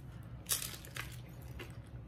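A crunchy taco is bitten and chewed during a Taco Bell and Burger King mukbang, giving a few sharp, close crunches that fade into softer chewing under a low background hum.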